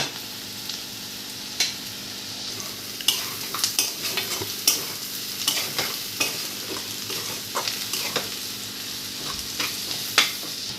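Onions frying in a pan for prawn curry, stirred with a spoon: steady soft sizzle throughout with repeated sharp scraping and clinking strokes at irregular intervals, close up and with no talking.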